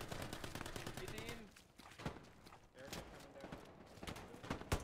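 Rapid gunfire in the World War II shooter game Hell Let Loose, dense bursts of shots crackling throughout with players talking over the shooting.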